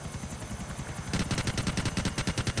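Gunfire from a vehicle in the video game Grand Theft Auto IV: rapid, evenly spaced automatic bursts that grow louder and denser partway through, close and without talk.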